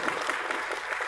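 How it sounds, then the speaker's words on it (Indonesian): Audience applause for a woman panelist at a business talk on women leaders, a steady even clatter of many hands clapping throughout, fairly close and dense. "Tepuk tangan untuk Mbak Sinta nih."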